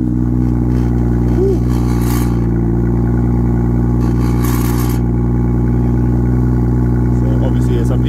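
A BMW M2 engine with its exhaust valve actuator closed, running steadily at a loud, close, sustained drone with slight swells in pitch, and voices faintly present over it.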